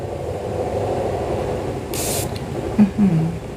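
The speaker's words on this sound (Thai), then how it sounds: "สเปรย์ ฟุ้งแบบ ฟองฝอยละเอียดมากทุกขวดเลย" A short, close hiss of a fine mist spray from a perfume bottle bursts over a steady low background rumble.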